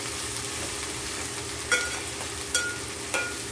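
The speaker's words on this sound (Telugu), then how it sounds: "ఈ అల్లం వెల్లుల్లి పేస్ట్ కూడా ఉల్లిపాయలతోనే ఫ్రై అవ్వాలి." Ginger garlic paste frying with onions in a pan for a prawn and ladyfinger curry, a loud steady sizzle with three short scraping stirs of a utensil, close and without talk.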